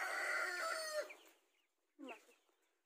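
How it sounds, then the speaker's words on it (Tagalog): Free-range Rhode Island chickens cluck and crow nearby, a drawn-out call at the start, then a short quiet pause and a brief second burst of clucking. "Ang daming manok."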